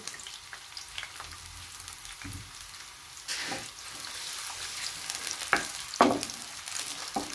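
Onions added to hot oil for a Pakistani-style tori (ridge gourd) sabzi, frying with a soft steady sizzle and a few louder crackles and stirring clinks, close by with no talking.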